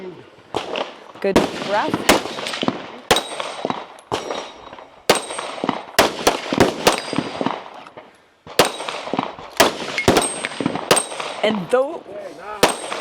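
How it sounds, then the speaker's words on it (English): Pistol shots ring out on a stage of a 2025 regional shooting competition in Poland, sharp loud cracks fired in quick bursts with other reports and metallic hits mixed in, while a commentator talks over them. "He will start his pistol sequence."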